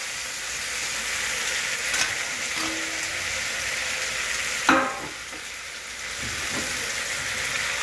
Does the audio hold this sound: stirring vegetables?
yes